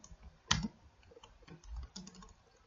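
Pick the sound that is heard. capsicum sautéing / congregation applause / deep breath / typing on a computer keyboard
typing on a computer keyboard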